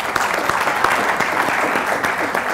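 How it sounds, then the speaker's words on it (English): A live audience gives a warm round of applause for a man being praised at an event, steady dense clapping lasting throughout at a fairly loud, even level. "How about we give him a big round of applause for this?"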